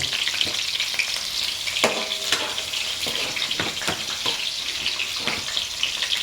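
Onions sauté in a pan for spaghetti sauce, a steady frying sizzle broken by several distinct scraping clanks of a utensil stirring against the pan.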